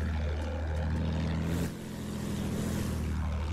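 A propeller airplane droning overhead in a shooter video game, a steady, low engine hum with a slight dip in level midway, faint and without speech.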